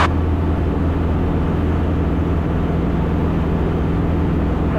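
Light aircraft engine droning steadily during the climb just after the flaps come up, a loud constant roar with a low hum and no change in level, heard inside the cabin.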